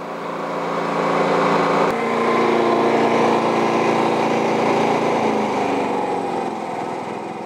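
A Predator 9500 generator runs in eco mode about 8 feet away, giving a loud, steady engine drone that continues evenly throughout with no talking.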